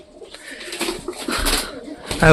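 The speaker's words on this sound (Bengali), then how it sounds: "বিবেক পায়রা নিয়ে চলে এসছে" Black-and-green pigeons coo softly amid rustling and handling noises close by, with low murmurs of movement and a sharper sound at the end.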